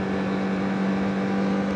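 A Honda CBR1000RR Fireblade sportbike engine holds a loud, steady high-pitched drone with a strong constant tone, heard from close by on the bike for under two seconds.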